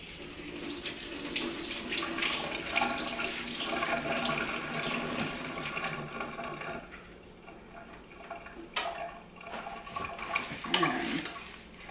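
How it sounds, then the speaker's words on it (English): Tomatoes rinsed under a running kitchen tap, with steady splashing water pouring into a sink and small clicks and knocks from handling, close and fairly quiet. "I'm just going to give these guys a rinse."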